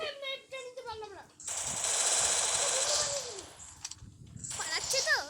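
Bursts of rapid automatic gunfire from an MB40-style weapon in a video game, a sustained rattling volley in the middle, while players talk excitedly over it.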